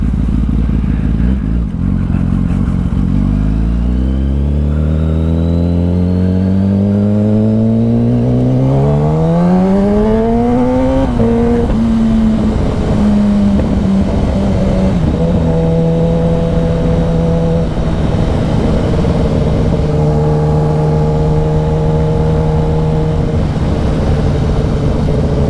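A car engine revs loudly and close up, its pitch climbing steadily through the gears for about ten seconds. It then settles into a sustained high drone that shifts slightly as it holds speed.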